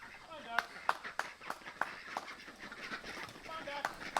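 Young ducks quacking in short, repeated calls close by, with a person coaxing them along in an outdoor farmyard setting.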